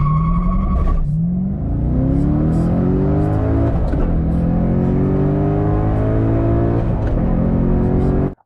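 A C6 Corvette Z06 with its 505-horsepower LS7 engine revs loudly and repeatedly, the pitch climbing and falling in several strong sweeps before cutting off abruptly at the end.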